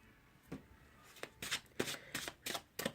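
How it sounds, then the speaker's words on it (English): Tarot cards being shuffled by hand, a series of short soft riffling bursts in quick irregular succession, close and quiet with no talk. "A couple more shuffles."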